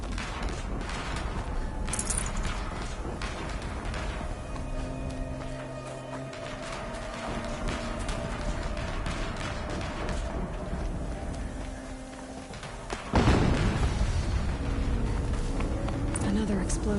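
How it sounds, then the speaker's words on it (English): Another explosion in Horizon Zero Dawn bursts out near the end, a heavy sudden boom rising over rattling, clattering game ambience and lingering as a rumble. "Another explosion."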